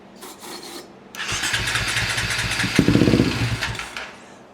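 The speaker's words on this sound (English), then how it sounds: "I can get it to pop off with brake clean." A KTM 525 motorcycle engine with a fuel-starved no-run fault cranks and briefly pops into life on brake cleaner, a loud close burst of rough firing lasting about three seconds before dying away.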